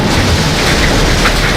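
An explosive zombie blows up in STALKER: Shadow of Chernobyl, a loud, sustained booming roar of blast and rumble that fills the space without a break.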